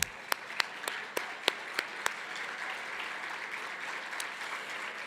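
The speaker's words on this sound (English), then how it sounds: "Please join me in a round of applause to all of our partners." An event audience applauds partners, a handful of sharper claps standing out at first before settling into a softer, even wash of clapping that continues at a moderate distance.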